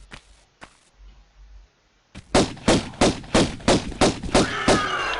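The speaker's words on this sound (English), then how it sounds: "Try and get a few shots off of him at the beginning." In the video game Level 3 The Lost Valley, gunshots fire at an enemy: after a few soft thumps and a pause, a rapid series of about nine loud, evenly spaced shots rings out close by.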